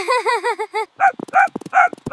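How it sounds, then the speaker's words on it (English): A dog barks in a quick run of six or seven yaps, loud and close, then breaks into several more sharp, whining barks with brief gaps between them. "Look at that cute dog."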